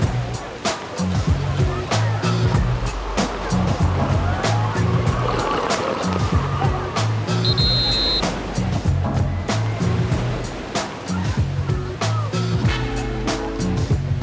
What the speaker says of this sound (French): Le shore break, autrement dit une déferlante de bord.